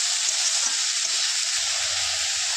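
Saag with potatoes frying in a pan, a constant airy sizzle at close range with faint stirring movements and a low hum entering midway, no talk.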